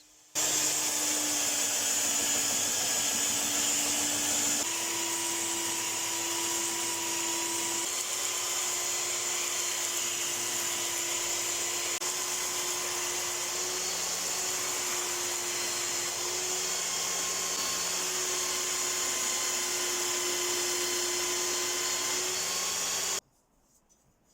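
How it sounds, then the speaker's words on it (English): A cheap 3x21 belt sander clamped in a vice grinds steel for a forged twisted damascus dagger, a loud steady whine with a continuous tonal hum that runs without pause for over twenty seconds, then cuts off abruptly. "Who needs a fancy 2x72 grinder when you have a really cheap 3x21 held in a vice?"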